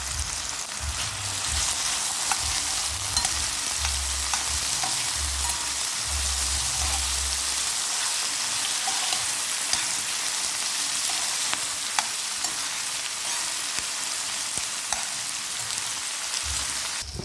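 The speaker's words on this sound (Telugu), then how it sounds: "వీటిని మనం లైట్గా అయితే ఫ్రై చేసుకోవాలి." Dried red chillies and tomato pieces fry lightly in a pan for an okra masala curry, a close, steady sizzle with soft stirring scrapes that runs on alone throughout.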